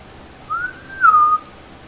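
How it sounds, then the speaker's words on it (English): Two short whistled notes, the first rising and gliding, the second dropping to a steady lower pitch, clear and close with a quiet background. "The whistles are weird because I asked him to whistle back."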